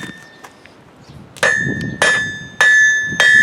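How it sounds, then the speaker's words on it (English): A blacksmith's hammer strikes metal on an anvil four times at a steady pace while drawing a taper, each blow loud and leaving a bright ringing tone, after a few faint taps. "when I start to actually use my hammer on the anvil"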